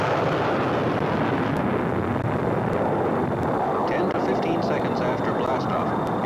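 A rocket launch roars as a loud, continuous broadband rumble with a steady low-frequency thunder that fills the whole stretch. A few faint higher tones and crackles sit on top of it toward the end.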